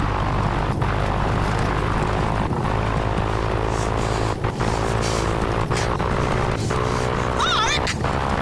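A small propeller plane's engine drones steadily at high elevation in thin air, loud and continuous with a few brief dropouts, struggling to perform as it should.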